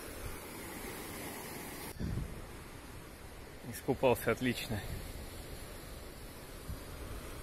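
Sea waves breaking on a beach in Turkey, a steady wash of surf with wind noise over the microphone, while someone speaks briefly over it.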